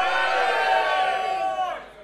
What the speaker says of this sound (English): What a crowd.